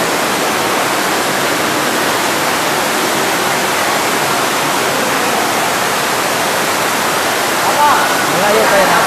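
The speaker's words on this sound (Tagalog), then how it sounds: "Tubig oh." Rushing water from a waterfall inside a cave, a steady loud broadband roar that fills the whole stretch with no breaks.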